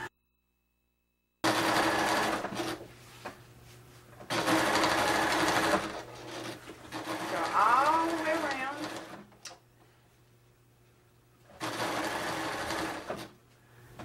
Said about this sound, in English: I don't want to sew slow, I want to sew fast.